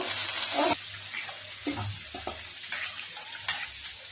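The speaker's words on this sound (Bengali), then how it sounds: "আমি এখন চিংড়ি মাছটাকে ছেড়ে দিচ্ছি।" Shrimp dropped into a hot pan for a home-style Bengali prawn curry burst into a loud, close sizzle, which fades after a moment into quieter crackling with faint stirring and utensil clicks.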